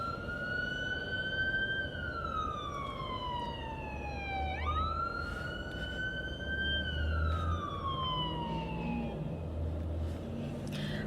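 A fire or ambulance siren from a nearby station wails in long rising and falling sweeps with a brief yelp midway, steady and moderately close over low traffic rumble, with no speech.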